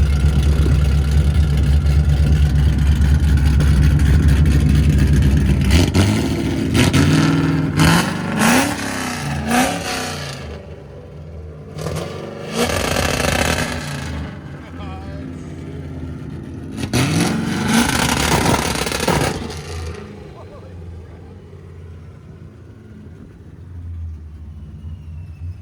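Deep rumbling supercharged Procharger V8 in a Ford Mustang GT with headers and straight pipes idling loudly, then a series of sharp, raspy revs and throttle blips with gaps between, harsh and close with an open-exhaust bark.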